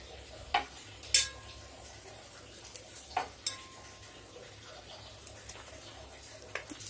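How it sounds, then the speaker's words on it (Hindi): Vegetables for dalma (cauliflower, small potatoes, tomato and green chili) are cut, giving a few sharp, sparse knife knocks and clinks against a quiet background with a low hum. "चलिए सब्जी को काट लेते हैं सबको"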